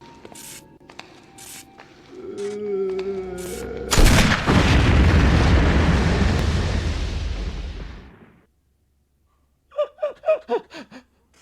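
A volatile fuel supply explodes in the Resident Evil video game, a sudden loud boom after some quiet tones, then a long roaring rumble fading out, followed by a short run of rhythmic clicks.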